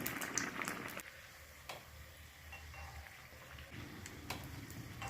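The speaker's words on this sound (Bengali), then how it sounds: "গ্যাসটাকে মিডিয়াম টু হাই ফ্লেমে রেখে হালকা লাল করে ভেজে নেব।" Pieces of bread stuffed with a filling fry in hot oil over a medium-high gas flame, giving a soft, steady bubbling sizzle close by with a few small crackles.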